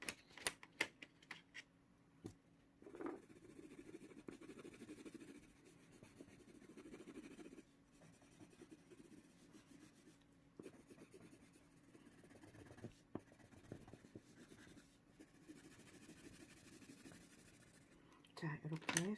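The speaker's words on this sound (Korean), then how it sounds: "역시 좀 색칠을 해줄까요?" A pencil colors in a hand-drawn picture of money and coins, a faint, steady scratchy rubbing of lead on paper with small taps, running under a soft voice talking throughout.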